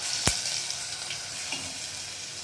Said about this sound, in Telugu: పచ్చి వాసన పోయే వరకు కొద్దిగా వేయించుకోవాలి